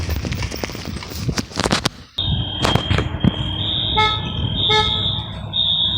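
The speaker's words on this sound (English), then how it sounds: "Somebody's testing the alarms." Fire alarms in a vacant building sound during a test: loud rhythmic pulsing bursts give way to a sustained shrill electronic tone that wavers and repeats close by.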